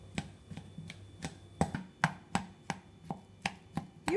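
One ripe banana is mashed in a bowl with a quick run of about a dozen close, crisp taps and squishes, evenly paced and unaccompanied by any voice.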